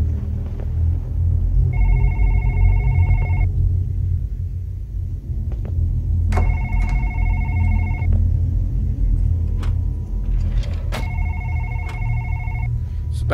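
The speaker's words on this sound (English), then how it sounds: "Yes, I get you like to ring the damn phone." A telephone rings in the video game One Late Night: three separate bursts of electronic double-ring trills, evenly spaced, over a steady low rumble, with no one talking.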